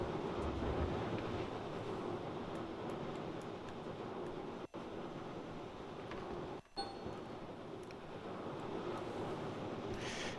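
Water flowing through a sluice in the Gold Mining Simulator video game, a steady broadband rush like a stream, faint and continuous, with two brief dropouts partway through.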